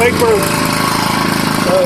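Small engine fed by a homemade vapor carburetor runs steadily at a fast, even idle, close and loud, with a faint whine weaving through the drone.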